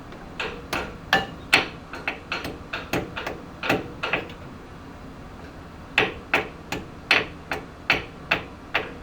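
Sharp metallic hammer taps on a Brembo brake pad pin on a Renault Megane RS, repeating in quick irregular bursts, some louder and closer together, with brief pauses between runs.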